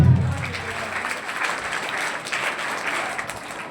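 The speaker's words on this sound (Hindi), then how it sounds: "एक बार बड़ी ताली स्टार्ट" Audience applause at a school annual exam results ceremony, a steady broadband patter of many hands that holds at moderate level throughout, with a brief low hum at the start.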